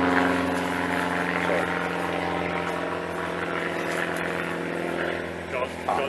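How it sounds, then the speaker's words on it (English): A propeller aircraft drones overhead with a steady, buzzing engine hum that stays loud throughout. A few faint voices can be heard beneath it. "apologies for the airplane noise"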